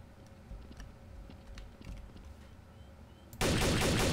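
Gunfire in Garry's Mod, Trouble in Terrorist Town mode: scattered sharp shots crackle over a low background hum, then a sudden loud, dense burst of fire takes over for the final second.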